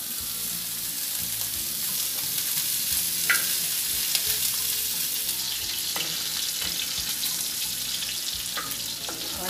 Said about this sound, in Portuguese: Tem que fritar, fritar, até tirar bastante óleo para a gente estar usando.